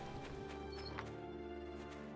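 Horse hooves clip-clop at a trot in the life-sim video game My Time At Portia, with a brief whinny under steady game ambience. The sound is quiet and close.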